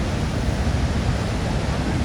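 Victoria Falls in Zambia, seen from a bridge, pours out a dense, steady roar of rushing water that fills the whole clip, with some wind mixed in.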